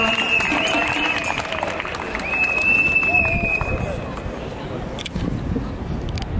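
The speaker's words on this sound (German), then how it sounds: "Großen Applaus für Karin Haag!" A crowd applauds for Karin Haag at an outdoor gathering. The clapping is loud at first, mixed with crowd noise and a whistle-like tone, then fades as a voice begins to speak.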